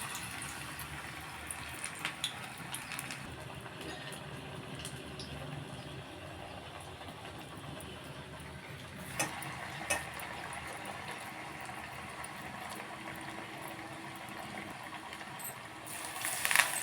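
Millet (kambu) vadai patties frying in hot oil in a village kitchen, a steady soft bubbling sizzle running throughout at moderate level, with a few faint clinks and a brief louder rustle near the end.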